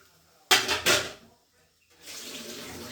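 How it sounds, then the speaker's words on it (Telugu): Cold water runs from a tap over freshly boiled noodles sitting in a metal strainer in a home kitchen, a steady splashing stream that starts after a louder burst of clatter and a short pause. "అవి ఉడకగానే ఈ జల్లి గుళ్ళలోకి వేసేసి కొద్దిగా వాటర్ కూడా పట్టేయాలి"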